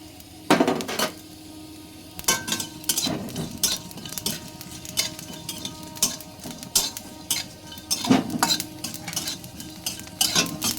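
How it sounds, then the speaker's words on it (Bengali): A utensil scrapes and clinks against a dry metal pan in irregular bursts, stirring cumin, cardamom, cinnamon, cloves and a bay leaf with sharp metallic knocks and no voices. "এই যে জিরে, এলাচ, ডালচিনি, লবঙ্গ আর একটা তেজপাতা শুকনো কড়াই নেড়ে নেবো আমি।"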